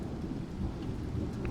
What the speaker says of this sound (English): Outside, it's progressed from a thin mist to active, throbbing rain.